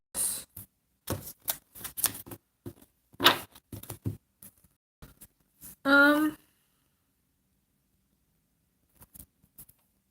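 Tarot cards being pulled and handled during a live reading: scattered soft clicks, taps and shuffling rustles in short bursts, with a brief voiced sound midway and a mostly quiet stretch near the end.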